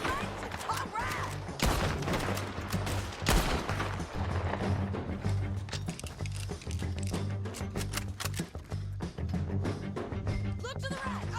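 Gunfire in a Red Dead Redemption 2 shootout, dense rapid shots and bursts crackling continuously near and far, with voices shouting under the din.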